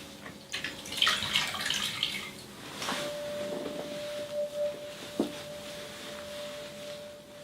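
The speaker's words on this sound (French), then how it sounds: "Et puis vous rincez avec des éponges." Water-soaked sponges rinse skin during a chemical peel treatment, giving soft wet splashing and dripping sounds, close and quiet, with a faint steady tone running beneath.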